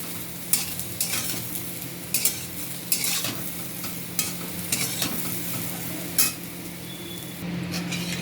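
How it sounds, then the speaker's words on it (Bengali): Cauliflower frying in a pan, a soft steady sizzle broken by repeated sharp scrapes and clinks of stirring, close and fairly quiet. "ফুলকপি ভালো ভাজা হয়ে গেছে"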